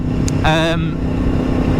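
A Yamaha MT10 with a cross-plane engine gives a single short, sharp rev that rises in pitch and then fades. It is close and loud over steady background noise.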